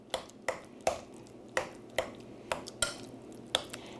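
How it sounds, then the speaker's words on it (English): A spoon scrapes and knocks against a pot while milk is stirred into cooked potatoes, about nine sharp, close clinks at an irregular, brisk rhythm with quiet gaps between them. "Little bit of milk. And I'm gonna stir for just a second."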